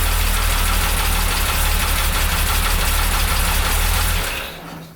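A repaired car engine runs at a steady, loud idle with a low, rough drone, then shuts off and fades out near the end.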